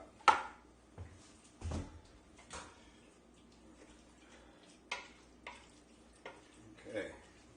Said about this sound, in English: I'm just mixing it all in at the moment